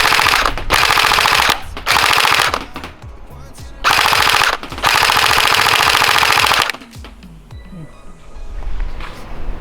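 A CP AK105 gel blaster firing full auto in several loud, close bursts of rapid rattling shots separated by short pauses, ending with a quieter mechanical tail.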